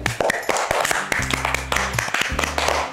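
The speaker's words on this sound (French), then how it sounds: "On applaudit pour Jérémie." A few sparse, irregular hand claps from a small group applauding a child at a church children's gathering, sharp and close, over a steady low tonal hum.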